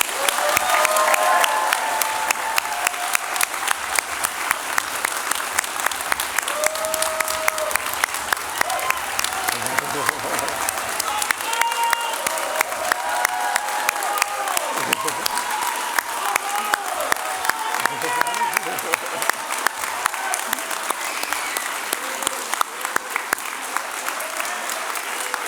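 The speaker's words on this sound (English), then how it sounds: "join me in a huge round of applause for our amazing graduates" Sustained applause from a large convocation audience honouring graduates, a dense steady clatter of many hands filling the hall for the whole stretch, loud and even with faint crowd murmur underneath.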